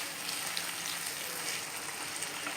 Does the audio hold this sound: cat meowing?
no